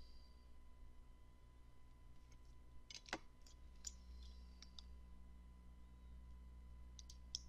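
A single computer mouse click lands in a quiet room over a steady low hum, with a few faint ticks scattered around it.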